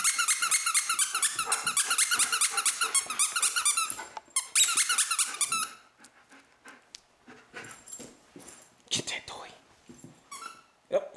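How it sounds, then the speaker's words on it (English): A dog repeatedly squeaks a squeaky Christmas toy in quick, loud bursts while panting and growling nearby. The squeaking later thins to scattered squeaks and rustles as people talk. "Pick it up and stand up and squeak it."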